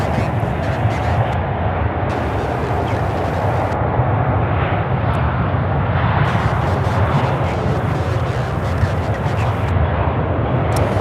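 An airliner, a Boeing 777, taking off at Charlotte Douglas International Airport: a steady, loud, broadband jet roar that holds throughout with a deep rumble, heard from outdoors at a distance with no break.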